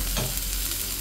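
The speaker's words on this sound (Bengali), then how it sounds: "এখন একটু নেড়ে ছেড়ে দিচ্ছি।" Green plantain pieces are stirred through spices in a hot pan for a hilsa fish curry, giving a dense close sizzle with a quick scrape of the spoon, short and unbroken, with no voices.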